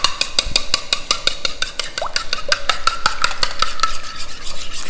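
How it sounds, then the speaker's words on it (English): A spoon stirs zucchini apple muffin batter in a bowl with steady, rapid rhythmic scraping and clicking strokes, close and continuous with no talk. "I'm going to go ahead and grab a spoon so I can mix this all up"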